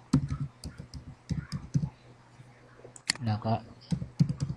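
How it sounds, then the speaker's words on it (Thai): Keyboard typing at a computer while entering a password and spam-check answer: bursts of close, rapid key clicks in an uneven rhythm, with someone briefly speaking in between. "พิมพ์รหัสของเราเข้าไป"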